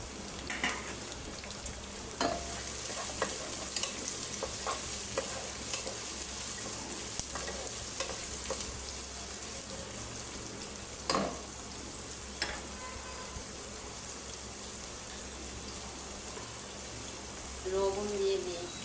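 Carrots and long beans stir-frying in a pan for fried rice, a steady close sizzle broken by scraping and clinking stirs, with a few background sounds.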